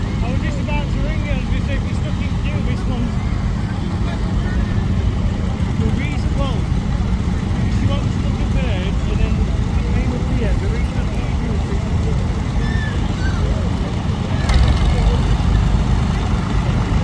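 Tractors move around the parade arena at the Sheffield Steam Show, including a Ford 4000, with a continuous low engine rumble beneath a loud announcer's voice.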